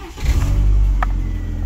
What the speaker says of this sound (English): there's an exhaust leak and there's some rattling that happens